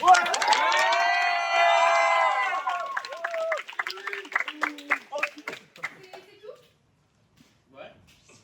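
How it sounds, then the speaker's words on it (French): Audience applause and cheering at an end-of-season children's theatre show, opening with loud shouting and whooping voices, then breaking into scattered claps that grow sparse and die away to near silence. "Applaudissez-moi tous"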